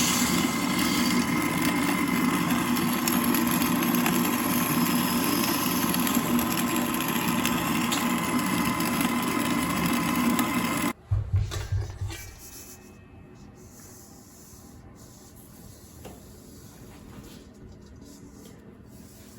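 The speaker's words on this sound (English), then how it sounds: "Grinding wheat is a lot of work." Hand-cranked grain mill grinding homegrown wheat into flour, a steady loud grinding drone for about eleven seconds that then stops abruptly, leaving quiet room tone with a few small knocks.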